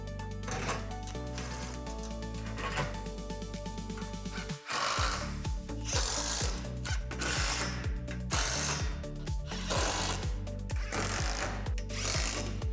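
A ratchet wrench tightens hardware on the handrails of a Lifetime Adventure Castle playset, clicking in quick repeated bursts of rapid pawl ticks, with short pauses between strokes, close and clear throughout.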